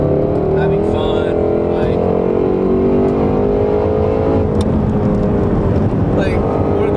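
A 2019 Ford GT350R with a manual gearbox drives at speed, its engine droning loudly with rising and falling pitch as gears change, while someone talks over it throughout.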